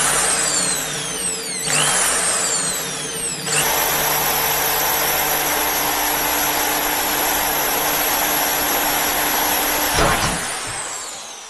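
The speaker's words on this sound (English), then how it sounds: "Let the drill do the work." A power drill cuts into the metal tube of a Skywatcher Classic 250P telescope with a loud, steady whine that holds for about ten seconds, with brief pitch shifts near the start and a dip close to the end.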